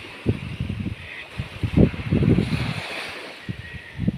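Gentle waves wash onto an empty seashore with steady wind rushing past, soft surges rising and falling in irregular pulses.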